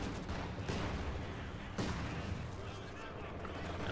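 Mortar and battlefield fire in Company of Heroes 2 on a woodland map, muffled booms and crackling rolling under a continuous din, with a couple of sharper impacts and a voice talking over it.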